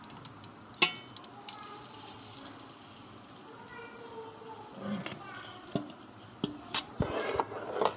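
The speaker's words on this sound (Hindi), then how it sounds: "हम इसे इतना भूनते हैं जब तक कि ये अपना कलर ना तब्दील कर ले" Egg halwa mixture frying and being stirred in a pan, a low sizzle with scraping stir strokes and a few sharp clinks, close by, with a person talking over it.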